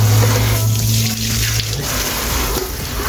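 Cold tap water runs steadily over salmon in a kitchen sink, a continuous close splashing rush with a low hum beneath it.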